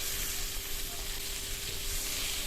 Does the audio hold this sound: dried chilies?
yes